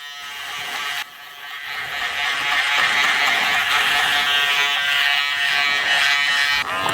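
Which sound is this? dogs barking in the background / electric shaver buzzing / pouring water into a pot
electric shaver buzzing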